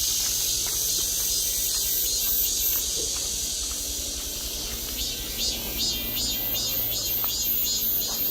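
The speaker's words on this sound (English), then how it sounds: "That's a cicada." Cicadas on a mountain in Korea buzz in a dense, continuous high-pitched drone that fills the air, steady and loud with slight pulsing throughout.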